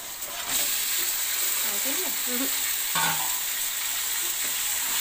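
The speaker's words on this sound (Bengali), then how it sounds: "এবার মশলাটা ভালোভাবে নাড়া হয়ে গেছে, এবার এর মধ্যে মাংসটা দিয়ে দেওয়া হচ্ছে।" Chicken goes into a pan of frying spice masala, and a loud, continuous sizzling hiss fills the space close by, with a sharper crackle as the meat lands and a faint voice in the background.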